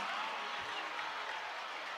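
Stadium crowd at a college football game between NMSU and Liberty, cheering in a steady, broad roar that fills the whole two seconds with no single voice standing out.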